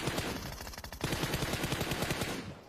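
Rapid bursts of Groza rifle fire in PUBG Mobile crackle in a dense automatic rhythm, loud and close, tailing off at the end.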